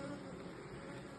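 Honeybees buzzing at a hive fitted with a second brood box, a dense steady hum filling the short moment without any break, moderately loud and close.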